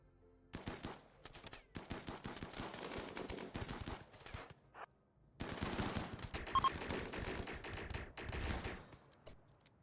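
Gunfire from an assault in the RimWorld video game: rapid bursts of automatic fire and scattered shots, fairly faint, in dense stretches separated by short pauses.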